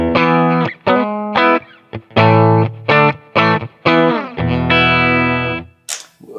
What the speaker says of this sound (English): some bridge pickup